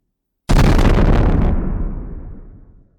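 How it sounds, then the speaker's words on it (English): A single huge explosion bursts in after a moment of silence, a loud deep blast that rumbles and fades out over a few seconds in a Star Wars fan fiction audio drama. "The explosion erupted with the force of a Tatooine sandstorm"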